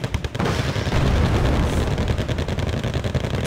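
Rapid artillery and gunfire from a war video game, a dense continuous barrage of booms and shots rolling without pause for a few seconds, loud and close with no talking.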